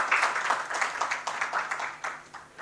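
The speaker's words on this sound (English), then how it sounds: "Can we give him a big round of applause?" Audience applause at a panel event on fair tech, a steady patter of many hands clapping at moderate loudness throughout, with no voices over it.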